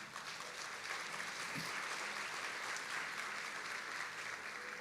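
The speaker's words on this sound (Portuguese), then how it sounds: "Você pode dar um aplauso a Ele?" A church congregation claps steadily together, a sustained, even wash of applause heard from some distance at low level with no voices over it.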